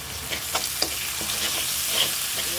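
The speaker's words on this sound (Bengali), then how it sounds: "এই যে এখন আমি পেঁয়াজটা ভাজা ভাজা করে নিচ্ছি" Onions frying in a pan with turmeric, salt, cumin and garlic paste for a vegetarian vegetable curry, a loud steady sizzle with faint stirring taps, close up and without talk.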